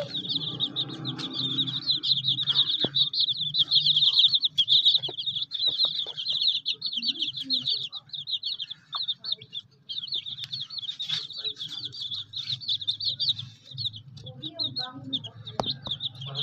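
Several chickens cluck and chatter in busy, overlapping bursts, with a brief flutter of wings and some quiet rustling underneath.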